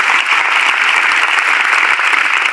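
An audience at a program in a government girls' senior secondary school in Rewari applauds, a steady dense wash of many hands clapping, loud and continuous with no talk over it.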